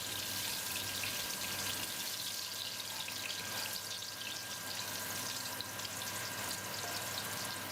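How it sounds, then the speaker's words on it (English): Extra virgin olive oil infusing with rosemary sizzles steadily in a pan, a soft continuous crackle heard close and alone without talk, with a faint stir. "we're going to infuse some extra virgin olive oil with some rosemary"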